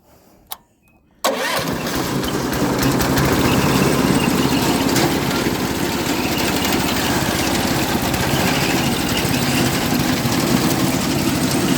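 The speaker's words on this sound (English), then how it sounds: "I pretty much run it at an idle, not much over an idle." A firewood cutting machine's engine starts after a short click, then settles into a loud, steady mid-pitched idle that runs alone without a break.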